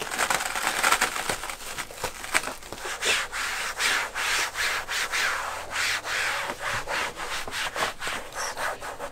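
Alcantara imitation foil rubbed and pulled smooth over a car headliner, giving a steady series of close, rhythmic scraping and rubbing strokes with no talking.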